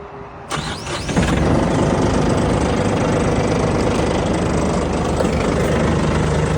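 A used Yanmar 224 Japanese compact tractor with a tiller attachment cranks and catches at once, then settles into a loud, steady, slightly knocking diesel idle that runs on without a break.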